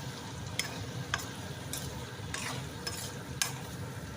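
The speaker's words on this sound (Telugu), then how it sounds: "ఇప్పుడు ఇది కలుపుకోవాలి ఇట్లా" A spoon stirs small bitter gourd fry in a pan, giving soft scraping knocks every half second or so over a faint, steady sizzle.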